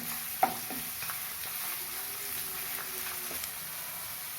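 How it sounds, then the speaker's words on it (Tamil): Sliced onions salted and sautéing in a pan for a spicy egg capsicum masala, a soft steady sizzle with a sharp knock near the start and light scraping stirs scattered through. "வெங்காயம் ஒரு 2 நிமிஷம் வதங்கட்டும்"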